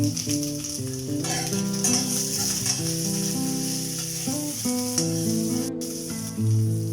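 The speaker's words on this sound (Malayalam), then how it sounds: "എല്ലാം ഒന്ന് ചെറുതായിട്ടൊന്ന് ഫ്രൈ ചെയ്യാം." Onion, curry leaves, ginger and green chilli frying in a pan for carrot chutney, with a continuous hiss of oil under a bed of music, no voices.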